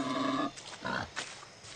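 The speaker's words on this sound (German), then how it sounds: "Schweine." Pigs in the video game Far Cry 6 give a few soft, low grunts, quiet and close, with short snorting bursts spread over a couple of seconds.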